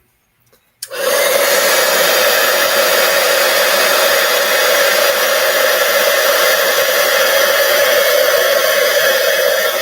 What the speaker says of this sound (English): And now we're going to heat emboss this one.